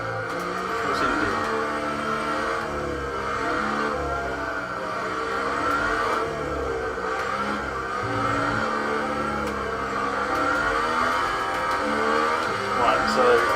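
F1 cars race in the F1 2018 video game on Xbox One: a continuous, rising and falling whine of high-revving engines with occasional tyre noise, while someone talks over it throughout.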